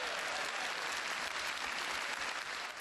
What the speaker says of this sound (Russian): Но сегодня дебаты завершаются овациями.